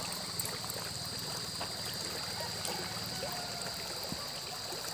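A stream flows continuously outdoors, a steady close-up babble and trickle of water with no break, and a faint high steady hum sits above it.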